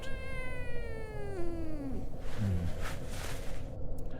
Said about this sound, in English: This is Ulysses the cat.